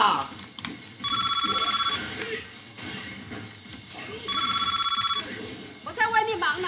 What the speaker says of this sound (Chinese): 电话响，你怎么也不接一下？